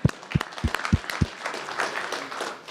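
At a press briefing, about five crisp hand claps land in quick, even succession, then give way to a low room murmur.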